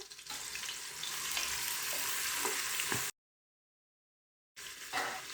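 Chopped onions, six medium ones, hit hot oil for mutton biryani and sizzle loudly and steadily for about three seconds, cut by a gap of silence, then resume with the same bright crackle.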